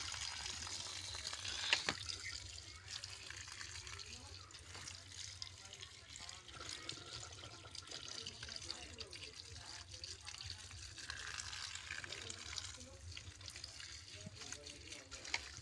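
Water runs from a pipe fitted into a village bathroom, a soft continuous trickle and splash at low level, with someone talking intermittently over it.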